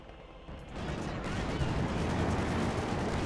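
In a Company of Heroes 2 battle, gunfire starts quietly and then builds into a dense, continuous rattle of close-range fire that holds steady and fairly loud to the end.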